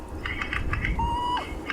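A spookvoël, or ghost bird, gives a brief alarm call in the African bush, a thin whistled note and short chattering sounds heard at moderate distance over low ambient rumble.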